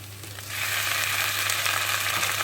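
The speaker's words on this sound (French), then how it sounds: "Alors les oignons et l'ail ont un peu revenu." Onions and garlic sautéing in a pan for a Basque-style chicken, a steady close sizzle that swells in after half a second and holds evenly, with a low hum underneath and no talking.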